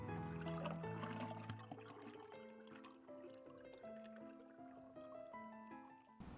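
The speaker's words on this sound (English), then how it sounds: "You then pour on the boiling water." Boiling water pours from a kettle onto loose-leaf tea in a warmed teapot, a continuous close filling sound whose pitch rises steadily as the pot fills.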